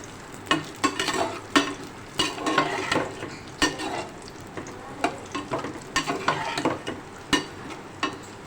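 Grated coconut and almonds lightly frying in a pan for chana dal khichda, with a soft continuous sizzle broken by repeated sharp scraping strokes of a spoon stirring against the pan.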